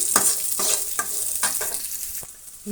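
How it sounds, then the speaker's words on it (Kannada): Onions and curry leaves fry in a pan for a cabbage palya, a steady loud sizzle broken by repeated scraping stirs roughly every half second, with no voices. "ಕರಿಬೇವಿನ ಸೊಪ್ಪನ್ನು ಒಂದು ಸ್ವಲ್ಪ ಸೇರಿಸ್ತಾ ಇದ್ದೀನಿ ಇಷ್ಟು ಇಂಗ್ರೀಡಿಯೆಂಟ್ಸನ್ನು ಫ್ರೈ ಆಗಲಿ"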